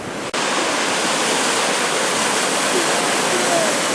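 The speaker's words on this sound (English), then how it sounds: "This is the top of Rio Peter Wolf Waterfall." The Rio Pita waterfall roars as a loud, steady rush of falling water heard from its top. A brief quieter moment comes at the very start, then the roar is constant.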